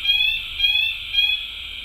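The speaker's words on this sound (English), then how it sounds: "That is a fire alarm." A fire alarm sounds at an indoor convention panel: three loud, shrill electronic beeps in a steady, evenly spaced rhythm, each lasting about half a second, with no talk over them.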